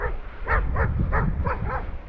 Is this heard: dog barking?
yes